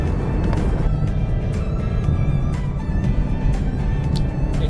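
A BMW 430i Gran Coupe's four-cylinder engine rumbles steadily from inside the car on a winding mountain canyon highway, a low, continuous drone with road noise and faint intermittent ticks.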